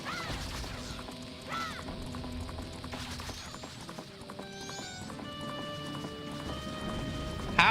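Horse hooves clip-clopping in a horse video game, a steady close trotting rhythm over game music tones, with a whinny-like sound near the start.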